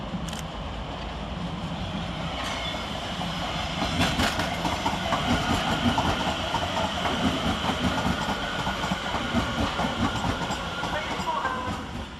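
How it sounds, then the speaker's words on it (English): A London Overground electric train, unit 710269 from Watford Junction, rolls steadily into London Euston, with continuous rumbling, wheel clatter and hiss filling the platform throughout. "Whilst arriving to terminate with a London Overground service off Watford Junction is 710269."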